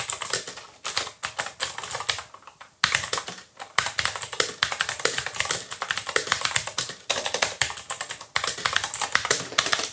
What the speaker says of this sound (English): I'm going to show you guys real quick a quick sound test of the keyboard itself